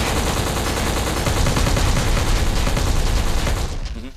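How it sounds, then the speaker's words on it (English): Intense, continuous gunfire from a shooter game, with many guns firing together in a loud, dense fusillade that runs without a break before cutting off sharply. "the sound of all the different guns"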